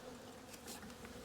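Honey bees buzz inside a hive with a queen laying winter bees, a dense, faint, continuous hum from many insects close up, with no voices.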